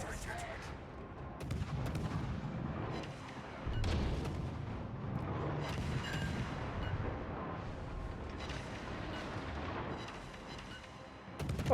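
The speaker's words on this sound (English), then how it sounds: "torpedo hit" Rumbling, booming blasts from a naval video game, including a torpedo hit, form a sustained, dense wall of explosions and low thuds, with a player talking over the din.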